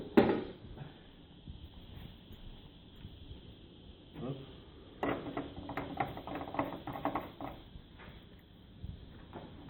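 A brush is fitted onto a single-disc carpet shampoo machine: a sharp knock, then clusters of ratcheting mechanical clicks and rattles, close and fairly quiet, with some speech in between.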